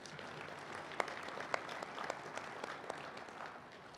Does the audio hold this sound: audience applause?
yes